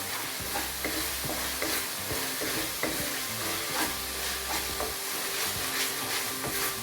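Onions frying in oil with salt for a mushroom biryani, a steady close sizzle with scraping stirring strokes from a spoon against the pot.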